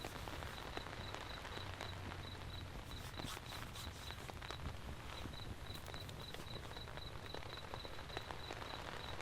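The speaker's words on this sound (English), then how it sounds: "It's raining outside of the forest." Steady rain falls on a forest around a car campsite, a dense, even patter of drops on leaves and surfaces that continues without a break, with no voices.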